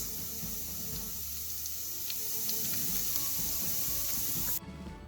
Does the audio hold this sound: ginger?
yes